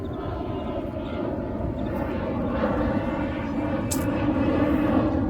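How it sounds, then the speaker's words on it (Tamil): An airplane passes overhead with a broad, steady engine roar that slowly grows louder, heard outdoors near a fishing spot with no clear talking. "இங்க பாருங்க, ஏரோப்ளேன் போகுது."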